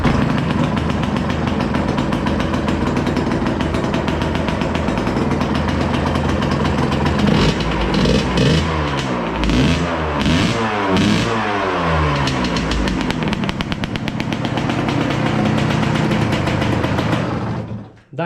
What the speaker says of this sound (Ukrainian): Трошки підтроює, бо улив багато масла в камеру колінвала, бо вимивав то все.